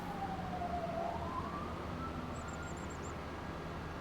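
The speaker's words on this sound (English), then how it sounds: "I hear some sirens down there." Sirens wail in the distance in Farming Simulator 25, a faint rising and falling tone over a steady engine and ambient hum, with a few high chirps near the end.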